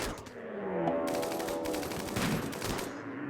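Video game gunfire from a RimWorld colony's firing line shooting at Thrumbos, a rapid, continuous rattle of many overlapping shots with sharp bursts, moderately loud and without talk.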